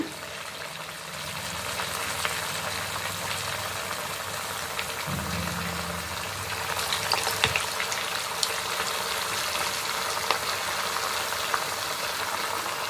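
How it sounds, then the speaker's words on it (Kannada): Puffed rice masala vada dropped into hot oil, giving a steady broad sizzle and bubbling that runs throughout, with a brief low thump midway and small crackles, no voices. "ಈಗ ಎಣ್ಣೆ ಕಾದಿದೆ ಇದಕ್ಕೆ ವಡೆ ಹಾಕ್ಕೊಂಡು ಕರಿಯೋಣ"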